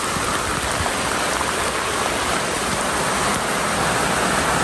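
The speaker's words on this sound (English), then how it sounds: "came out, and it's pouring out." Heavy rain pours outside on a Florida day, a loud steady hiss that fills the whole clip with no gaps and no voices.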